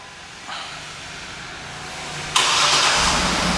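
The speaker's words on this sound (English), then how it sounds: "And the car starts right up." A 2011 GMC Yukon XL AWD engine cranks by remote start and catches, then settles into a steady, louder idle after a brief click and whir.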